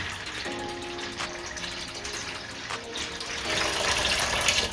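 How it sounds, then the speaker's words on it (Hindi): Water gushes steadily from a vessel into mixed yogurt for kadhi, a continuous close pour that grows fuller and louder toward the end. "दही को अच्छे तरीके से मिक्स करने के बाद हमने इसमें पानी ऐड कर देना है।"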